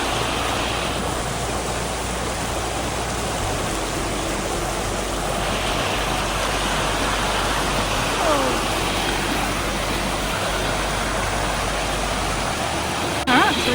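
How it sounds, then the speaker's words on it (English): Waterfalls pour near a riverside picnic rock, a broad continuous rushing roar that stays loud and even throughout, with a faint voice briefly over it. "Oh, waterfalls."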